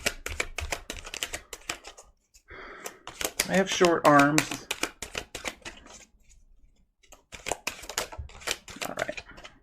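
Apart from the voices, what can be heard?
shuffling a Wheel of the Year tarot deck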